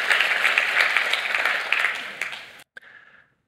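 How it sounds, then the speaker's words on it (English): An audience at the Ubuntu Summit 2023 claps in sustained, dense applause that fades and breaks off abruptly, followed by a few scattered late claps. "So can I get the next round of applause for all the very cool people here?"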